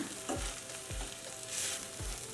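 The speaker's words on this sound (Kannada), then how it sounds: "ಒಂದೂವರೆ ಟೀ ಸ್ಪೂನಷ್ಟು ವಾಂಗಿಭಾತ್ ಪುಡಿ ಮನೆಯಲ್ಲೇ ಮಾಡ್ಕೊಂಡಿರೋದಿದ್ದು ರವೆಗೆಲ್ಲ ಚೆನ್ನಾಗಿ ಮಿಕ್ಸ್ ಆಗಬೇಕು ಕೈ ಆಡಿಸ್ಕೊಳ್ಳೋಣ" Semolina (rava) being stirred in a pan with homemade vangibath spice powder over low flame, giving soft repeated scraping strokes roughly every half second under a steady faint sizzle, with no voices.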